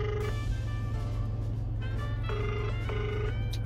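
A phone ringing during a call, heard as a repeating electronic ring tone in short bursts over a steady low engine-like hum from inside a parked car.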